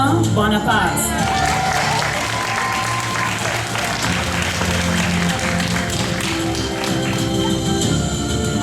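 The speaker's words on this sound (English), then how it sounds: "applause." Audience applause at a school graduation ceremony as a student's name is called, steady clapping with some tapping and thuds, mixed with background music and voices in the hall.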